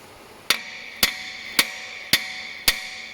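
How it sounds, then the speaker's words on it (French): A hammer strikes a loose truck brake pad five times at an even pace, each hit a sharp, close metallic tap with no talk. "Prends le marteau."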